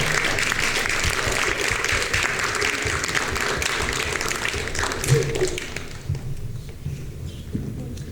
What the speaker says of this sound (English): give another big round of applause for all of our musicians